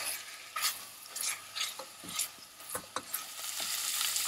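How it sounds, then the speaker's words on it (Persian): Tomato paste fries in a pot for pumpkin stew with a soft sizzle, while a spoon scrapes and stirs it in irregular close strokes. "رب گوجه فرنگی رو اضافه میکنیم، تفت میدیم تا زمانی که رب رنگ باز کنه و بوی خامی گرفته بشه"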